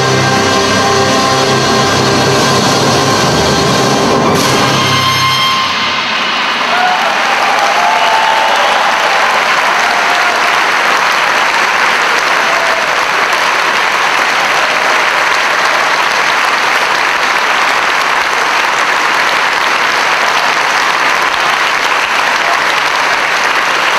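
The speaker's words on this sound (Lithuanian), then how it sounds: "pilnutėlė kongresų rūmų salė ilgai plojo" A packed congress-hall audience applauds at length after a jazz band and symphony orchestra perform, a dense, sustained wash of clapping that stays loud and steady throughout, with no music underneath.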